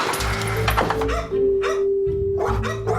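A dog barks in a short run of loud, close yaps over a busy background of rumbling noise and a steady hum.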